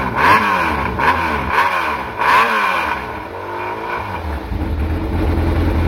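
A Yamaha 600 XJ motorcycle engine is revved to about 6000 rpm in a series of quick, loud blips that rise and fall, then settles into a rough, steady idle, heard up close with no talk.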